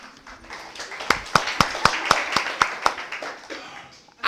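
Church audience applause after announcements, heard as a short run of evenly spaced, crisp claps at a steady beat, fairly close, that rises briefly then fades, with faint voices in the background.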